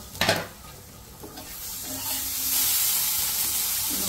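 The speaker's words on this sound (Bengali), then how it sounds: "এখন ঢাকনা উঠিয়ে মরিচ আলুগুলো নেড়ে দিব।" Potatoes and chillies fry in a pan. A brief clatter at the start, likely the lid being lifted, gives way to a steadily rising hiss of sizzling oil with light stirring.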